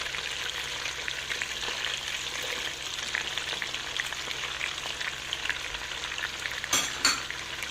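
Onion sautéing in a pan with butter, oil and meat, a continuous crackling sizzle throughout with occasional stirring scrapes and a couple of louder clatters near the end, no talking.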